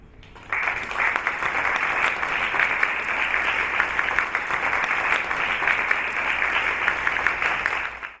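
A large audience claps steadily to welcome a guest speaker at an Endo March event, dense sustained applause starting abruptly and holding evenly for several seconds before fading at the end.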